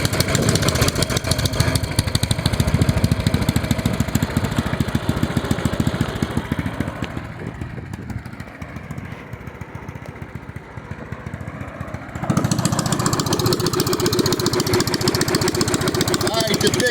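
A Predator 212 engine on a cart runs loud with only a 2-stroke exhaust pipe, a harsh raspy drone that eases to a quieter idle midway, then revs back up to full roar.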